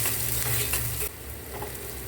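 Small onions sauté in a pan for a goat spleen fry, giving a steady, close sizzle with stirring that drops to a softer hiss about halfway through.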